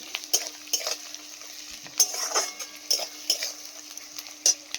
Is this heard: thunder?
no